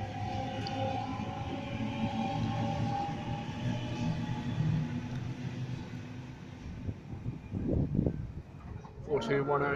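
A train rumbles steadily through Clarendon station in Sydney with rail clatter and squealing wheel tones, then a horn-like sweep sounds near the end; a voice speaks at times.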